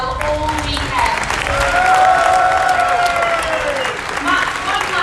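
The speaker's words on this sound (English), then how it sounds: "can we have a big round of applause for Johnny and Matt" An audience at a jousting tournament final claps in sustained applause, a dense wash of hands from a crowd that swells slightly in the middle, with a voice heard over it.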